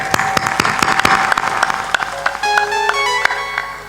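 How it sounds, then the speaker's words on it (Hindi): A crowd at a spiritual gathering claps enthusiastically, with sharp rapid hand claps over a bright bed of applause. Faint tonal music rings out beneath toward the end. "ताली बजा दो झमाझम।"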